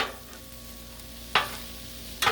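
Meat searing on a Blackstone flat-top griddle for Mexican-style cheesesteak tortas, a steady close sizzle with two sharp scraping strokes of a spatula partway through and at the end.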